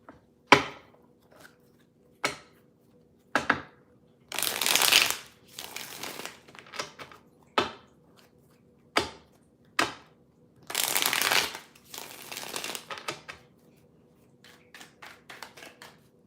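Tarot cards are shuffled by hand in a quiet room, with repeated crisp riffling bursts and sharp taps as the deck is squared, some shuffles brief and others longer and rustling.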